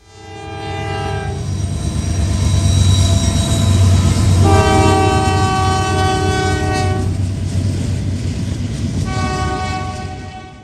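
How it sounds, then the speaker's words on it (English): A Norfolk Southern AC4400CW locomotive rumbles past close by with a heavy, loud roar while its horn blasts three times, two long blows and a shorter third, over the rolling train noise. "Seeing these old classic 2000s locomotives still running and in service"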